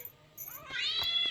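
A cat lets out a rising, drawn-out meow nearby, faint at first and then clear, with a little background noise.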